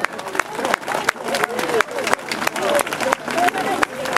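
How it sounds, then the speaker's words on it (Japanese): An audience at the MFJ All-Japan Trial Championship opening-round awards ceremony claps for the riders, a loose, uneven patter of hand claps with some crowd murmur and talk underneath. "その選手たちにもですね大きな拍手をお願いいたします。"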